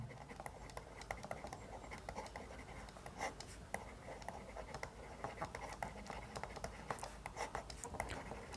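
Pen scratching on paper as notes are written by hand during an Indian polity lecture, with soft continuous strokes and small taps, close and quiet, with no speech.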